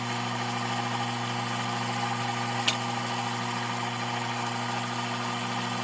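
A Sherline machine rough-cuts steel, giving a steady mechanical hum with a constant tonal drone and one brief sharp tick partway through, close and even, with no voices.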